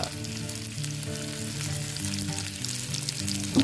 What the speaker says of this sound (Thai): แล้วก็ใส่เข้าไป ปลาสลิดหนึ่งตัว